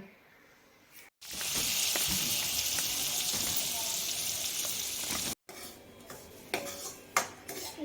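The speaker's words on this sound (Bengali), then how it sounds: "সুজিটা ভেজে নিলাম, একটুখানি মাখন দিয়েই করছি" Semolina roasting in a little butter sizzles steadily in a pan for several seconds, with brief scrapes of a utensil; the frying cuts off abruptly, then returns as quieter sporadic stirring clinks.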